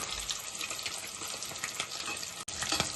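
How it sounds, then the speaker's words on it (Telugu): Steady crackling sizzle of boiled eggs frying in hot oil for egg curry, continuous and close, with a brief dropout near the end. "గుడ్లకి వేపుకోవాలి. ఫస్ట్ వేసుకొని వేపుకుంటే మనకి కలర్ వస్తాయి."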